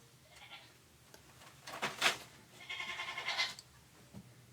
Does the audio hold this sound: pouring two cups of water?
no